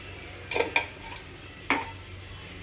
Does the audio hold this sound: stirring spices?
yes